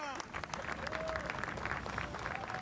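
A crowd welcoming the Boeing 787 Dreamliner on its first arrival in Japan, dense continuous applause and cheering at moderate distance, with a voice talking over it.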